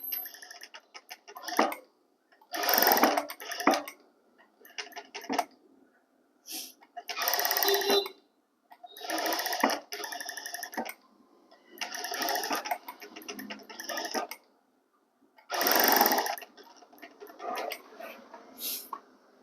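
A sewing machine stitches a lined blouse in short bursts, each run of rapid mechanical clatter separated by quiet pauses.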